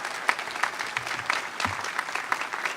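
Audience applause at a university undergraduate commencement ceremony for a newly commissioned Army second lieutenant, steady crowd clapping with scattered sharper claps throughout the short stretch.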